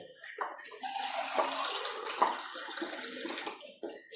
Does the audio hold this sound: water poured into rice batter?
yes